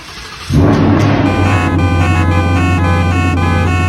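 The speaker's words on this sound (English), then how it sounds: "you can rev your new Ford Mustang from just the key, so you can enjoy the sound of that V8 from the exhaust" A new Ford Mustang V8 revved remotely from the key, its exhaust roaring up suddenly into a loud, steady, deep rumble with strong low harmonics that holds for several seconds before cutting off.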